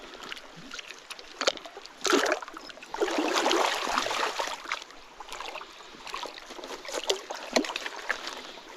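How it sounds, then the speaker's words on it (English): A big piece of ironstone grinds and scrapes in a gold pan full of rocky dirt at an old gold mine, making irregular gritty rasps and sloshing water bursts up close, with no talking. "there is a really, what looks to be a big piece of ironstone right at the bottom there, so I'm guessing that's what the scraping noise is"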